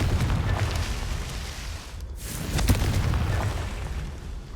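A Confringo spell explosion in the video game Hogwarts Legacy: a steady rumbling blast texture, a brief dip, then a sharper burst followed by a sustained fiery roar.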